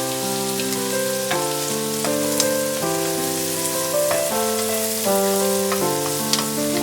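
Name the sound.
chopped onion, ginger, garlic and clove frying in pan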